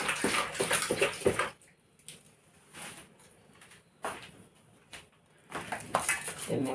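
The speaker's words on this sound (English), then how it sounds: "Let me wash them before I use them." Leaves for a stew washed in a basin of water, bursts of splashing and sloshing separated by quiet pauses, close and moderately loud, no talking.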